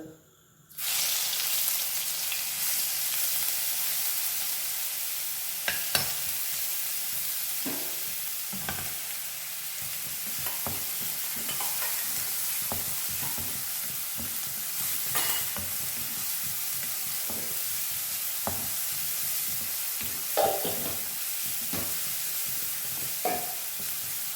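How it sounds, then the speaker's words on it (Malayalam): Crushed ginger and garlic fry in a pan for a chicken curry, a continuous close sizzle broken by repeated scraping and clacking of a spoon as it is stirred, with no speech. "ഇഞ്ചി വെളുത്തുള്ളിയൊക്കെ ഒന്ന് വാടിയ ശേഷം"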